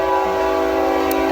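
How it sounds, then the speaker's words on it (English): A passing train sounds its horn in one loud, sustained, steady blast that fills the whole moment, close by and alone. "There's the train."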